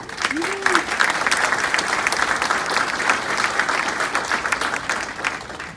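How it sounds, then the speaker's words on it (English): Audience applause fills a naturalization ceremony hall, steady and dense throughout, with a brief vocal sound near the start under the clapping. "Go ahead and give a round of applause for them."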